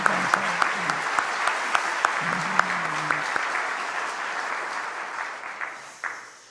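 A church congregation at a prayer meeting claps for a young singer, steady rhythmic applause at moderate distance with voices briefly over it, slowly fading out.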